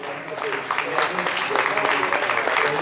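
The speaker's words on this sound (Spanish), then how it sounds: "fuerte aplauso y agradecer la presencia de jóvenes políticos de las Américas de la Ciudad de México" Audience at a forum on World Water Day in Xochimilco, Mexico City, breaks into applause, a moderate patter of many hands clapping heard beneath a voice talking throughout.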